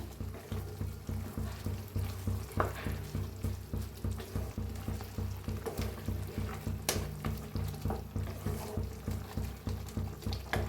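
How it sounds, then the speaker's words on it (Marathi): Steady, rhythmic scraping and clinking of a utensil stirring shevalya into a pan, repeating about twice a second over a low sizzle, close by. "आता शेवाळ्या मिक्स करूया एकदम मिक्स करूया शेवाळ्या"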